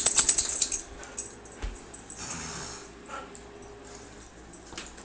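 A dog whimpers and yips in short, thin bursts early on, nearby, then the sound trails off into faint rustling and quiet background.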